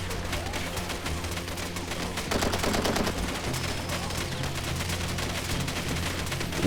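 Gunfire and many explosions rattle through a Far Cry 2 firefight, forming a dense, continuous barrage of rapid shots with heavier blasts layered over it and no pause.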